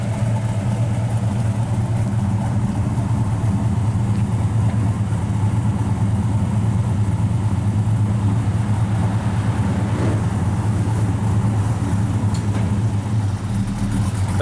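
A 1972 Chevrolet Cheyenne C10 pickup truck engine idles with a deep, steady rumble, close and loud, running unchanged for the whole stretch without any talk.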